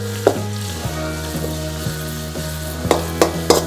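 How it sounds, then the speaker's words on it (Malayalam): Onions frying in a pan with ginger-garlic paste for a brinjal stir-fry, stirred with a spoon that scrapes and taps the pan a handful of times over a steady sizzle, close and alone. "നന്നായിട്ട് ഇളക്കുക."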